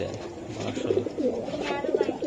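Racing pigeons coo in low, throaty, repeated phrases close by, with faint voices talking in the background.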